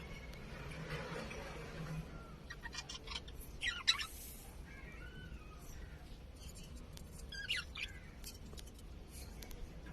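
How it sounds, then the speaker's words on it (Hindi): Australian parrots give a few brief, faint squawks and chirps, with two clearer bursts against a quiet background hiss, heard from a distance. "तो ये तोते की आवाज है,"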